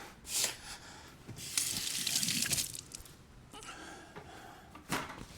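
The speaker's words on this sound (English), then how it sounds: "Let me rinse my finger off." A kitchen faucet runs in short bursts as a finger is rinsed beneath it, water splashing and gushing near the mic with a few brief pauses and clatters, no talk.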